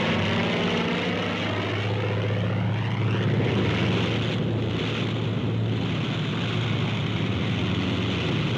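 A World War II-era propeller plane lands on an aircraft carrier deck, its engine a steady, loud droning roar with wind buffeting, heard without voices.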